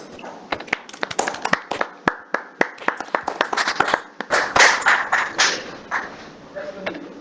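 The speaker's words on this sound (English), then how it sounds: "Give a big clap to Mr. Swadi" Meeting attendees clapping for a colleague at a mock business meeting, a scattered run of separate claps that builds into a denser burst of applause, then thins out; fairly close, with no clear speech.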